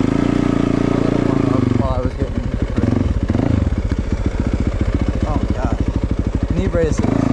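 Yamaha YZ450FX dirt bike engine running in the woods, loud and close, starting as a steady drone then breaking into a rapid chattering throttle pulse that continues throughout.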